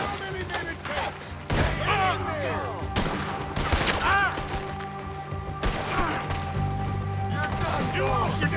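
Shootout in the video game Red Dead Redemption 2, with repeated loud gunshots and bursts of fire crackling on all sides, sharp ricochet-like whines, under shouting voices.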